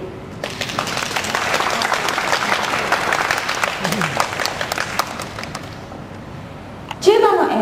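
A crowd claps and applauds steadily for a Toyota robot quartet band at a live demonstration, dense and sustained, with a louder thump and a brief voice near the end.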